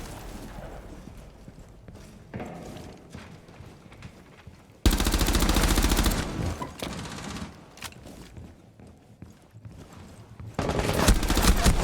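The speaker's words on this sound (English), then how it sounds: "Why is this guy just pre-firing the shit out of me?" Rapid bursts of gunfire in Rainbow Six Siege, steady at first, then a loud dense volley midway and another heavy burst at the end, close and forceful.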